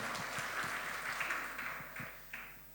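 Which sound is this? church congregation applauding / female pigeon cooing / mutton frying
church congregation applauding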